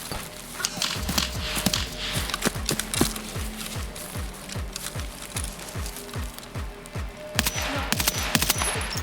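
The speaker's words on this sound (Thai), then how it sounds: "เสียงยิงปืนเนี่ย" Scattered gunshots in the video game Escape From Tarkov crack in quick bursts over a busy background of thudding steps and faint voices.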